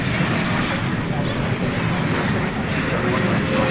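A Boeing 777-300 arriving from London Heathrow touches down at Dallas Fort Worth airport at night, its engines a loud, continuous broadband roar that fills the whole stretch without a break.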